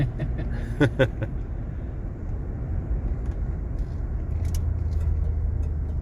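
A 1989 Lincoln Town Car rolling along a rough washboard dirt road, giving a steady low rumble of tires and suspension from inside the cabin, with a couple of sharp knocks early on and no talk.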